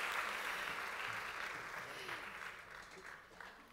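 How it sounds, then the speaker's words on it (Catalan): Audience applause in a theatre auditorium at a season presentation gala, a soft, steady clapping that slowly fades as it goes on. "Doncs un fort aplaudiment"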